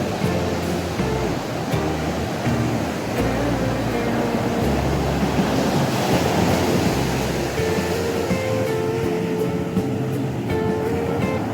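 Ocean surf off the coast of Bali, Indonesia, a continuous rushing wash of breaking waves with a low rumble, steady and fairly loud, with faint voices now and then underneath.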